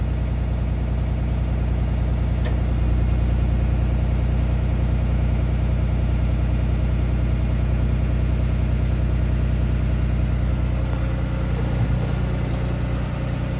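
A diesel city bus engine idles steadily after a cold start, a continuous low rumble with a constant drone, a few faint clicks and hisses near the end.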